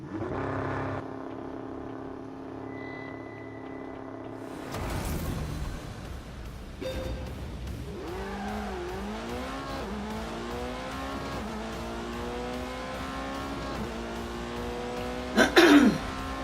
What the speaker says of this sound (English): Next, it was the turn of the Porsche 918.